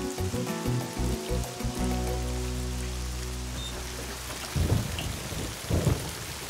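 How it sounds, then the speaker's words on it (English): Steady rain and a thunderstorm, with a long rolling rumble of thunder through the first half and then two heavier cracks of thunder near the end over continuous rainfall, with no voices. "it doesn't look like this rain is going to let up"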